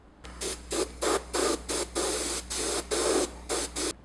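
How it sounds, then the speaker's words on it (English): Airbrush spraying Tamiya white paint onto a helmet in about a dozen short, evenly spaced bursts of close hiss, with a steady low compressor hum running underneath throughout. "I'm going to use Tamiya white. And we'll go ahead and airbrush this on."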